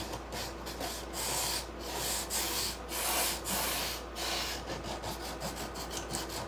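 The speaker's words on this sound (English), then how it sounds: "Doesn't take much to sand." Wood is hand-sanded for a primitive caddy, close rhythmic back-and-forth rasping strokes repeating steadily for several seconds, no talking.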